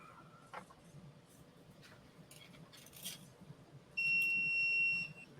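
After faint clicks and mechanical shuffling, a 3D printer gives a loud steady electronic beep for about a second on finishing, a high tonal alert close by.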